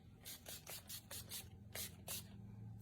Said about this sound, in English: So I'm using the NYX matte setting spray because I like a little bit more of a matte finish.